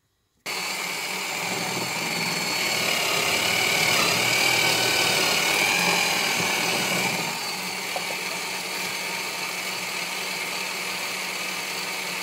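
A power drill bores into wood in a workshop, a loud continuous whirring drone that swells in the middle, then eases to a steadier lower whine until the end.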